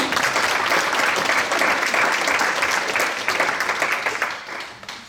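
An audience at a gala evening in Marlioz applauds warmly, dense continuous clapping that holds steady and then tapers off near the end.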